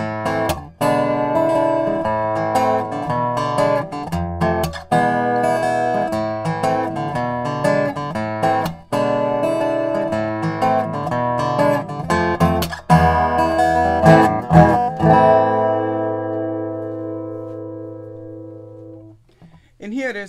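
Beard Odyssey acoustic guitar fingerpicked in standard tuning, a steady flow of plucked notes and chords played solo, ending on a ringing chord that slowly fades out.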